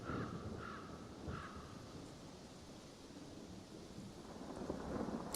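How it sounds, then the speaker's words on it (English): An eagle in the video game Divinity: Original Sin 2 gives a few hoarse, crow-like caws in quick succession over a steady rumbling, rain-like ambience, moderately close and otherwise alone. "A hacking caw breaks free from his ebony beak."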